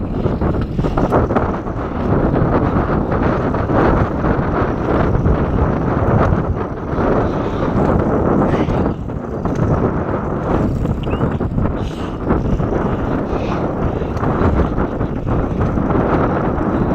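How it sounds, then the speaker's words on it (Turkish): Heavy wind buffets the microphone throughout while cycling, a loud, continuous low rumble with constant gusty fluctuation. "Çünkü çok rüzgar sesi var."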